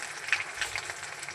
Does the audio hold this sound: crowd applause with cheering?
no